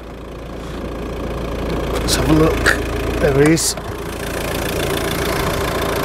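A used Volvo V40 idles with its bonnet open, a steady low engine drone running throughout while someone speaks briefly over it.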